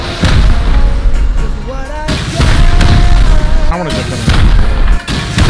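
Loud, booming rocket explosions in Rust tear through a base corner one after another, with deep rumbling blasts, crackling debris and a brief shout of speech mixed in.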